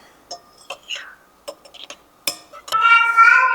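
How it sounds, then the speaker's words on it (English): A spoon stirs yeast into warm water in a bowl for challah dough, making scattered light taps and clinks against the bowl, then a louder, steadier scraping swirl at the end. "I'm just going to use 2 tablespoons. And mix that in."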